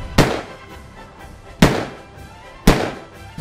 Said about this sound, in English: finish out that round with the 44 mag